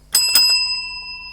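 A small bell on a model railway control panel gives two quick dings in a row, then a bright metallic ring that fades away over about a second, close up and clear.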